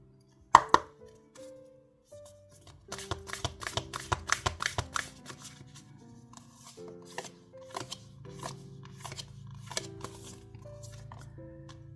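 Oracle cards being handled and shuffled, giving a quick run of crisp close snaps and riffles over a soft background of gentle music, with scattered taps and slides, no talking.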